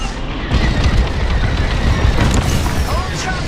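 Transport ships blow up in the space combat game Star Wars: Squadrons, a dense rumbling roar of overlapping booms and crackling blasts, loud and sustained, with radio voices speaking over it.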